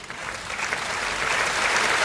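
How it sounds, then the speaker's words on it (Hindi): Steady applause from an audience at a Hindi kavi sammelan poetry recital, broad and continuous for the whole moment, holding even and slightly swelling toward the end. "तालियां कमजोर है"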